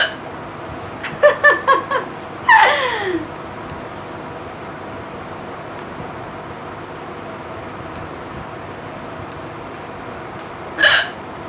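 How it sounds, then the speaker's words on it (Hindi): A young woman hiccups, several sharp, rapid hiccups clustered early on, then a louder squeaky one, a long quiet stretch and a final hiccup near the end, close to the microphone. "सिर्फ हिचकी का आवाज़ सुनिए आप।"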